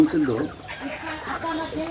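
A broody native hen sitting on eggs clucks and murmurs nearby in short bursts, with other faint farmyard sounds around it.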